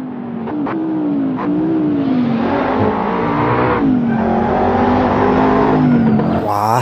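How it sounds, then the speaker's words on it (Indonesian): A toy race car's engine revs loudly and steadily for several seconds, its pitch wavering up and down with brief squeal-like bursts, close and alone with no talk. "Wow, ada mobil balap."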